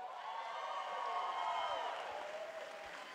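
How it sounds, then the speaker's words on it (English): Distant crowd applause for a cappella teams, blended with cheering and whoops, a soft continuous wash of clapping and voices. "let's give one more round of applause to all the teams up here"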